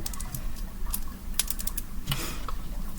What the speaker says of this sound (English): I'm going to go ahead and start pulling cards